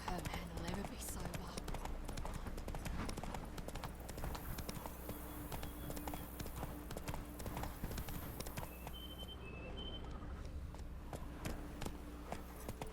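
Horse hooves clip-clop steadily in The Witcher 3, a continuous rapid trotting rhythm up close, with game music and ambience beneath.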